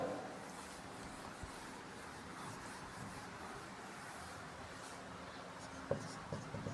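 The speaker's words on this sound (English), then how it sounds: "So just writing the answer here." Pen writing an answer by hand on paper, a soft steady scratching that runs continuously and faintly, with a few small taps near the end and no talking.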